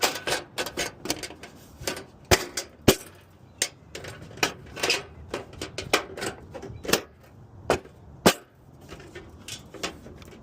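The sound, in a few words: hand cutting a miter in a seamless gutter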